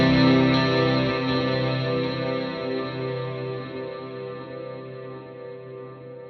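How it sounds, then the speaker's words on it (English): Vintage digital delay on an Axe-FX III guitar rig, quarter-note and dotted-eighth taps with diffused input, smearing a sustained guitar chord into a dense reverb-like wash that decays slowly over several seconds, alone and fairly loud. "I've got a vintage digital delay. I've got a quarter note and a dotted eighth note on either, so I've got a dual set up"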